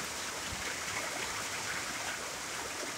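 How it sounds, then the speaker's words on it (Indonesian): Steady evening rain with moderate wind in a village at Kampung Batang Mitus, Tutong, falling as a continuous even hiss, close and fairly loud, with no voices. "Nampak hujan"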